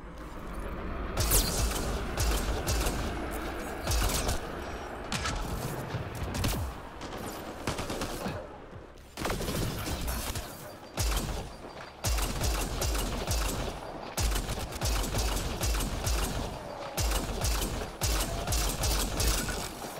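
Weapons firing in the sci-fi shooter game Mass Effect: Andromeda during a fight with pirates, dense bursts of rapid gunfire with brief pauses, loud and continuous over a rumbling mechanical backdrop.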